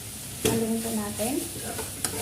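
Stirring a paste frying in a pan, a continuous sizzle with a sharp clack of a spoon against the pan and scraping strokes, while a faint voice and a tonal whine sit underneath.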